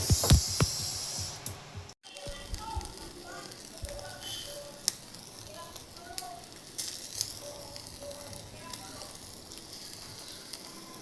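Steady crackling sizzle of chicken legs cooking on a grill, with scattered pops and voices talking faintly in the background.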